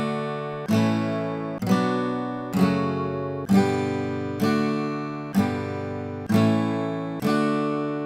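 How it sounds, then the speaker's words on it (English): Pachelbel chord progression in D Ionian played on a plucked, ringing instrument, eight chords struck at an even pace, each decaying before the next, close and clear with no talking. "if we take this Pachelbel progression back to its original position of being played in D Ionian"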